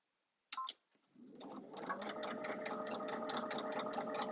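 Domestic sewing machine stitching steadily along the edge of a fabric bookmark, a brief clatter at the start then a continuous close, even mechanical whir with a rapid regular needle rhythm.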